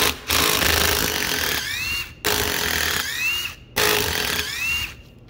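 A power tool zips out transmission case bolts in three close bursts, each a loud rattling buzz of about a second and a half with a rising whine as the bolt spins free, separated by brief pauses.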